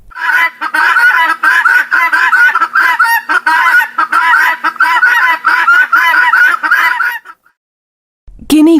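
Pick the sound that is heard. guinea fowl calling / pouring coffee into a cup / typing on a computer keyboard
guinea fowl calling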